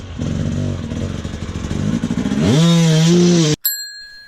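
An enduro motorcycle revs hard and loud at close range, the engine note climbing sharply as the rider pops a wheelie up a wall, then cutting off abruptly with a brief metallic ring after.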